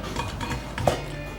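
A metal mixing bowl being handled, with a few clinks and scrapes and one sharper knock near the end, close by.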